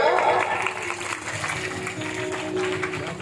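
Audience applause at a Hindi devotional Krishna katha gathering, a steady wash of clapping with some cheering voices mixed in, moderately loud throughout.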